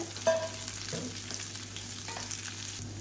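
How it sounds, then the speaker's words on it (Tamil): Finely chopped green beans sautéing in hot oil for a masala poriyal, a soft continuous sizzle with a few light stirring clinks. "பீன்ஸ் வந்து நல்லா சூடு ஏறி வதங்கட்டும்"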